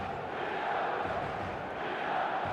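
A dense, steady roar of a full stadium crowd in the eFootball soccer video game, a continuous distant wash of massed voices and cheering without distinct calls.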